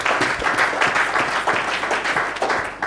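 A church congregation breaks into steady, full applause, many hands clapping together in a lively, even rhythm that fills the room for a few seconds.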